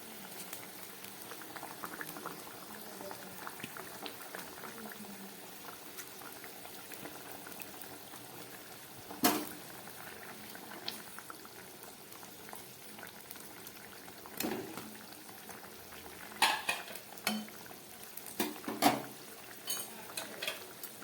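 Fish curry bubbling steadily in a pot, a soft continuous simmer with occasional sharper clinks of a utensil against the pot, close and moderately quiet.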